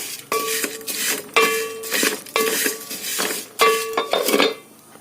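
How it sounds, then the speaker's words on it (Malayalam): A metal spoon stirs vermicelli roasting in ghee in a pan, giving repeated scraping clinks against the metal in four or five distinct bursts, close and fairly loud, with a faint sizzle between strokes. "ചെറിയ ലൈറ്റ് ബ്രൗൺ ആകുന്നിടം വരെ ഒന്ന് ഇളക്കി കൊടുക്കാം"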